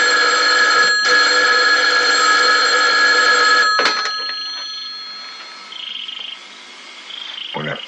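An old-style telephone bell rings loudly in a long continuous trill, stops briefly, rings again, then cuts off, leaving quiet room noise and small clicks.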